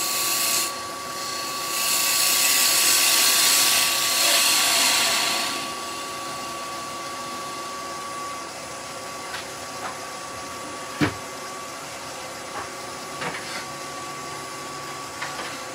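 A full gouge cuts wood on a lathe with a loud, airy hiss for a few seconds. Steady motor hum carries on afterwards, broken by occasional faint taps and one sharp knock.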